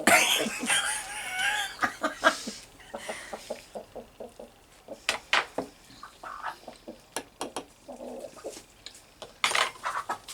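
A rooster chasing cats, its clucks and squawks mixed with scattered thumps and clatter, bursts of commotion on and off, close by.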